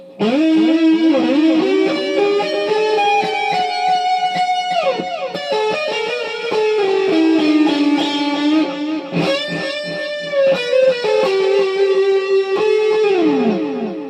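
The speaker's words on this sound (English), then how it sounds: "just play with a little attitude, a lot of overdrive, and having a telly kind of gets that nice telly sound" A loud, gritty overdriven Telecaster electric guitar plays a bending, twangy riff, with sustained notes and quick slides, no voices.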